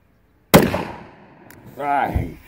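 A single sharp, loud gunshot from a used Taurus PT111 G2 pistol cracks nearby and decays, followed by someone talking.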